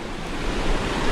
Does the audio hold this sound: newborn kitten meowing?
no